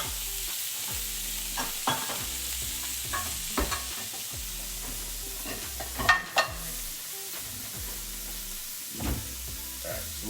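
Steak frying in a pan gives off a continuous close sizzle, with periodic scraping knocks from stirring and a sharper burst of hissing midway, no one talking.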